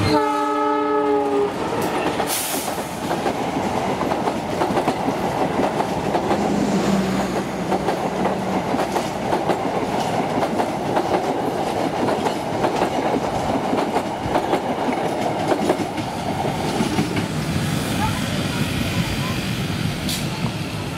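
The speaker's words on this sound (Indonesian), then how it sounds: "Jadi ini rekaman terakhir kereta api Cikuray di Karawang bagi saya." The Cikuray passenger train passes through Karawang station, opening with a loud horn blast and then a long, steady roar of wheels and carriages rolling close by, with rhythmic clatter across the whole stretch.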